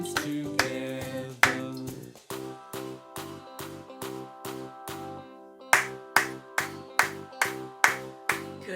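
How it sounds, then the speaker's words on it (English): Children's hand claps on a steady, evenly spaced beat, several in a row over an accompanying children's song, sharp and fairly close. "We all clap hands together."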